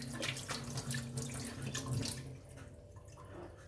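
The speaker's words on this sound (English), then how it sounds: "I'm just going to give it a bit of a quick rinse." Tap water running over soaked ramen noodles in a sink for a quick rinse, a close, splashing gush for about two seconds, then a softer trickle as the flow eases.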